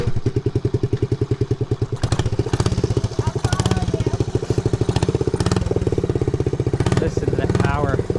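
A 1969 Honda Z50 mini trail bike engine runs steadily up close, its single-cylinder putter pulsing fast and even with a few throttle blips and rattly clatter throughout.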